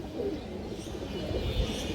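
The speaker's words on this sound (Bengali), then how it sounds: "আরও একটা মাদি কবুতর আছে" A female pigeon, a flying breed, coos in a low, steady murmur with soft repeated pulses, close by, among other pigeons in a loft, with no talk.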